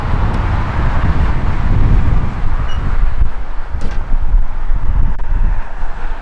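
Wind buffets the microphone with a steady low rumble and gusts, with faint road noise underneath; no one speaks.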